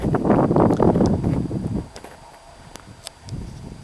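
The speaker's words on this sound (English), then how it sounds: "It's quite windy." Wind gusts across a snowy winter campsite, rushing loudly at first, then dropping to a faint hiss with scattered ticks and a smaller gust returning at the end.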